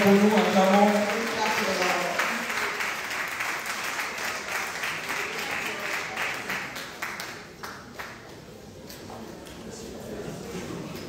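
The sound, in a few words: church congregation applauding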